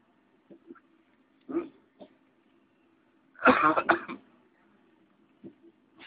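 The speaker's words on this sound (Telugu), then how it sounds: "నాకు ఒక పక్క దగ్గు, మీకు ఆ దగ్గినప్పుడల్లా డిస్టర్బెన్స్" A man coughs and clears his throat during a sermon, with a few short, sparse coughs and one louder cluster of rapid coughs midway, close and otherwise quiet.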